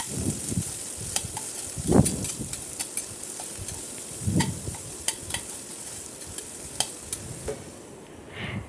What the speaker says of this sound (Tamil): அந்த வெங்காயம் நல்லா செவந்து வதங்கும்